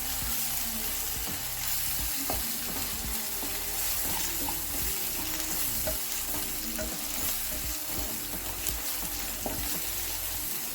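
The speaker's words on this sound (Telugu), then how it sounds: "ఇది బాగా ఫ్రై చేయాలి," Masala for fish curry sizzles steadily in a pan while a spoon stirs it in repeated scrapes and taps, a continuous close, loud fry with no voices.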